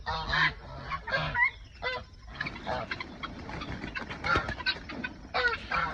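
Free-ranging guineafowl give harsh, repeated cackling calls, several birds overlapping in a choppy, insistent rhythm close by, with faint background noise and movement beneath.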